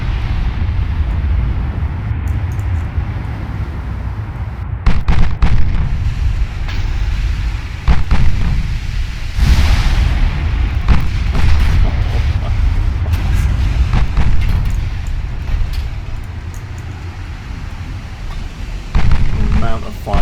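Naval gunfire and shell explosions in the warship game Ultimate Admiral Dreadnoughts during a hard port turn, heavy low booms and rumbling blasts recurring through a loud continuous battle din, with someone talking over it.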